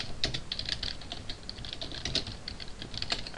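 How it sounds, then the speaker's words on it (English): Close, quick keystrokes clatter on a computer keyboard in irregular bursts throughout, with no talking over them. "can't talk and type at the same time."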